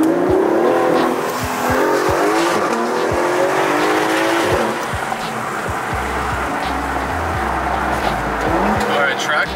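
A Mercedes C63S in track mode accelerates hard with a loud, sustained engine roar and rising revs, tires squealing over the top, while a person talks throughout.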